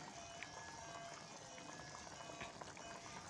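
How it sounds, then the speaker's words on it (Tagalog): A pot of chayote and chicken boils on the stove, giving off a faint, steady bubbling and simmering hiss that continues evenly throughout. "kumukulo yung manok."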